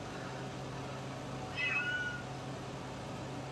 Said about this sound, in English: Sorry, my cat's crying.